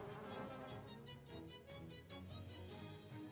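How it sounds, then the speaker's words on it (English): A video game swarm of swamp bees gives off a continuous, dense insect buzz, steady and fairly quiet, with no talking over it. "It's also got bees. Swarm of swamp bees."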